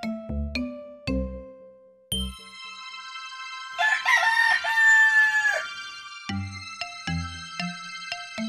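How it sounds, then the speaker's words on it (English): A cartoon rooster crows once, a bright drawn-out call in the middle, set between short ringing chimes and plucked musical notes. "Rooster."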